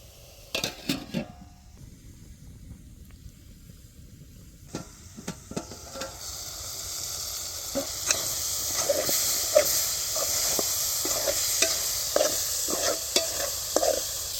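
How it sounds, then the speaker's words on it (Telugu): Soya chunks (meal maker) frying in a covered pan for a pulao, with a steady sizzle and hiss building over the stove, broken by clinking and scraping of a spoon stirring against the pot. "ఇప్పుడు కొంచెం మంట పెట్టుకొని మిల్ మేకర్ని బాగా ఏగనివ్వాలి మూత పెట్టి"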